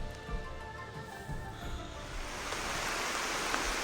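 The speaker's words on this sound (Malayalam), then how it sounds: "നല്ല മഴയാണ്." Heavy rain pours down at Anchuruli in Idukki, Kerala, as a soft, even hiss that swells louder and denser partway through, with no voices.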